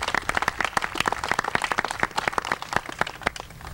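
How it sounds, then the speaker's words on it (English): A crowd applauds at a facility expansion announcement in Geismar, Louisiana, with steady, dense clapping at moderate distance that continues throughout. "Let's give all these folks a great round of applause"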